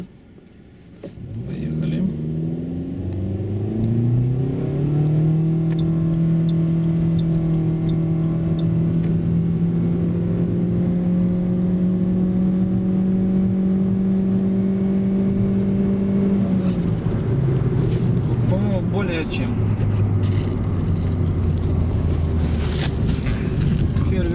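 Toyota Yaris 1.3 with automatic transmission running on LPG, accelerating: a steady engine drone that climbs in pitch through each gear with audible shifts, close and loud, with wind and road noise and no talk.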